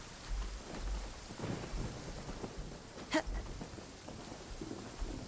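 Rainstorm in the video game Genshin Impact: steady rain patter with rolling thunder rumbles and one sharp, louder crack near the middle, no talk.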